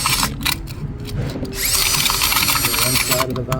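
A power drill spins a zip tie to clean intake valves during a GDI carbon cleaning, whirring steadily and close with brief bursts early on, then a longer continuous run.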